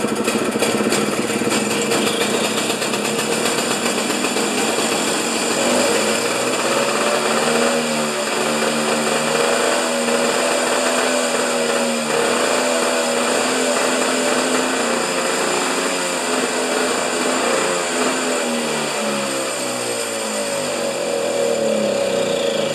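A Husqvarna snow thrower engine runs with no throttle control, giving a loud, continuous droning rattle that holds steady throughout, close by.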